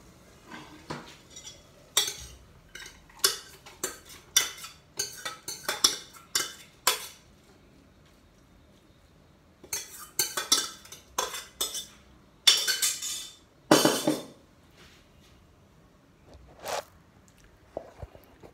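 Cabbage and chana dal curry being spooned from a pressure cooker into a bowl: bursts of metal utensils scraping and clinking against the pot and bowl, in irregular clusters separated by quiet pauses, close and fairly crisp.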